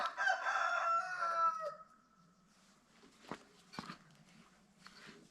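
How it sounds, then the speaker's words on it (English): Randy the rooster lets out a loud, close cock-a-doodle-doo crow lasting under two seconds, followed by quieter scuffs and faint outdoor sounds at a remote Alaska bush homestead. "Randy the rooster is making his noise"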